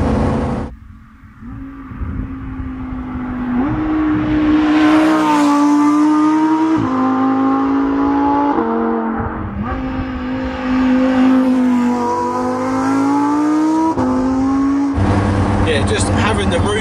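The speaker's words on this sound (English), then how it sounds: "The fact that you have to ring it out, and you've got the noisy exhaust" A Lamborghini Huracan Performante Spyder with the roof down revs hard through the gears, its noisy exhaust rising in loud climbing sweeps with brief drops at each shift, sustained and close, with a voice talking over parts of it.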